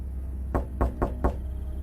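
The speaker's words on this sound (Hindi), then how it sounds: "अचानक घर की खिड़की पर किसी ने दस्तक दी।" Four sharp knocks rap on a house window at night, evenly spaced, close and distinct against a quiet background with no voices.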